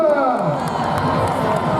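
A crowd at a Christmas parade in Châteauroux cheers and shouts together, loud and steady throughout, with scattered claps mixed into the din.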